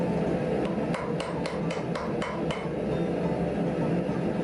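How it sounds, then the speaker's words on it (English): A hammer flattens a heated 5160 leaf spring on an anvil, about nine ringing blows in a quick, even rhythm, close and loud, followed by quieter shop noise. "So I'm using it just enough to hammer it flat"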